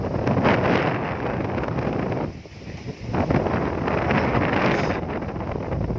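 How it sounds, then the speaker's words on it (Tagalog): Strong wind buffets the microphone in a steady, loud roar, briefly easing midway before gusting back, with a faint wash of sea in the background, at Tagbak Marine Park, Liloan, Southern Leyte. "lakas ng hangin"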